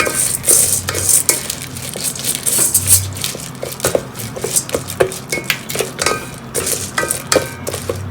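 Corn kernels are stirred through melting butter and oil in a pan for popcorn, with repeated close scraping and clinking spatula strokes over a soft sizzle, no talking.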